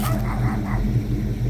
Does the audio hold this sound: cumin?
no